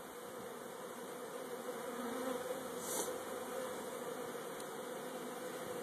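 Steady, soft buzzing of many honeybees at a newly installed homestead hive, a continuous hum with no talking.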